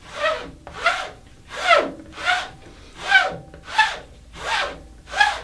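A straight razor is drawn back and forth across a leather strop in eight even, rhythmic rasping strokes, each swelling and fading at a steady pace.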